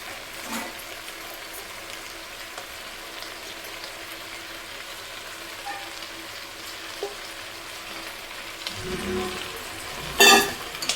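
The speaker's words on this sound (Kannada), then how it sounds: "ಫ್ರೈ ಮಾಡೋಣ ಸ್ವಲ್ಪ." Rice fries in a pan for eggplant pulao, giving a quiet, steady sizzle throughout, with a soft scrape near the end and a brief louder clatter just before it finishes.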